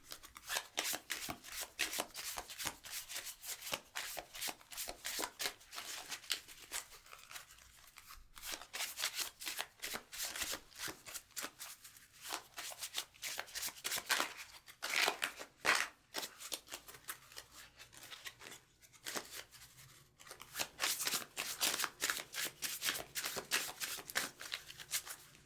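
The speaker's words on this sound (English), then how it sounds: "Get these cards shuffled up." A deck of playing cards is shuffled for three card poker at a casino table, with close, crisp riffles and rapid bursts of flapping cards repeating in quick successive rounds with brief pauses between.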